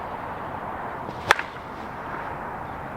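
A Proton USA/ASA slowpitch softball bat strikes a ball once, a single sharp, bright crack with a short ring-out against a quiet outdoor background.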